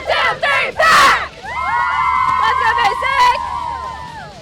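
A high school cheer squad shouts a group chant intro, loud and close, a burst of voices followed by a long sustained collective yell that trails off.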